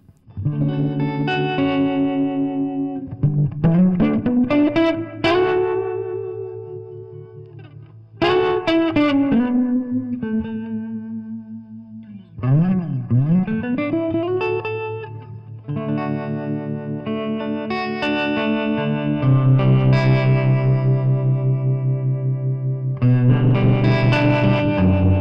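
An electric guitar runs through a Fender Tre-Verb pedal set to harmonic tremolo, its chords and bent notes pulsing and wavering with a slight pitch wobble, loud and continuous with no talking.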